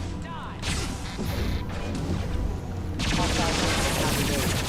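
Gunfire and impacts in the video game Mass Effect 2, with loud sharp bursts and crashing hits layered over game noise, growing denser toward the end.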